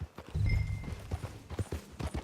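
Horse hooves in Red Dead Redemption 2, an even clip-clop of a walking horse, close and rhythmic, over a low rumbling background.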